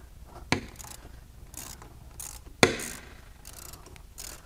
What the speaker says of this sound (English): Watch the rod cap as I take this bolt out.